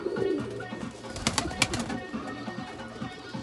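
A young racing pigeon coos close by in a loft, soft low burbling calls with a brief wing flutter or rustle in the middle.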